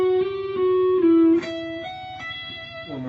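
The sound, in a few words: guitar playing two systems of Pachelbel's Canon run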